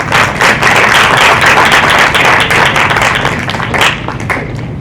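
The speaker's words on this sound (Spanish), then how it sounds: "damos un fuerte voto de aplausos a todos ellos" Strong, dense applause fills an auditorium at a water-themed training event, many hands clapping loudly and evenly before easing slightly toward the end.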